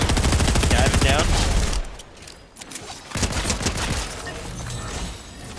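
Rapid automatic gunfire rattles in Fortnite Zero Build, dense fast bursts up front, a short lull, then renewed shooting mixed with game effects while players talk over it.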